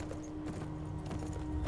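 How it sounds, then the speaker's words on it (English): Horse hooves clip-clop in the video game Beyond: Two Souls, a short run of soft, evenly spaced steps over a busy game background, ending in a sharper closer hit. "If only this horse would run."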